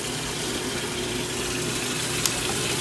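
Water runs steadily from a tap into a cup during RV unwinterizing, a continuous close hiss and splash with no talk.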